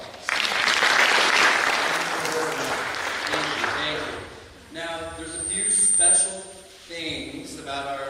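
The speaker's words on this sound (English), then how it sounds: "Give yourselves a round of applause." Audience applause at a theological seminary graduation ceremony, a burst of clapping at the start that fades as a speaker talks over it.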